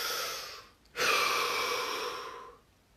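A person taking a deep breath during a guided relaxation session, a soft exhale tapering off, then a long, steady breath lasting over a second before fading, close and clear, without speech.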